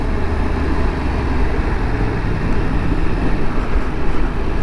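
A 2022 Yamaha MT-10 motorcycle accelerates hard with the throttle opened, a loud, dense, continuous engine roar heard up close throughout, with strong low rumble and no pauses.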